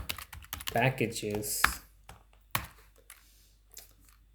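Typing on a computer keyboard while entering an R install command, producing a quick run of light clicks and taps after a man's brief speech, then a few sparse isolated keystrokes trailing off into quiet.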